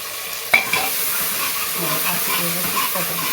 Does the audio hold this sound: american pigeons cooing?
no